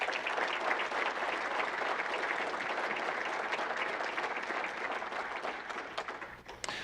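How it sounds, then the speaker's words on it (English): Audience in a room at a State of the City of Marshall presentation gives a sustained round of applause, dense even clapping that holds steady before thinning out near the end. "give her a nice Marshall round of applause"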